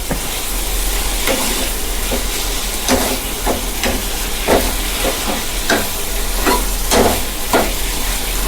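Crab cooks in a small frying pan with a loud, steady sizzle and hiss. Occasional scraping stirs cut through it at close range, and no one speaks.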